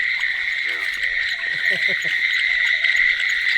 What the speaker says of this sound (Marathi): जोरदार आवाज आहे बेडकांचा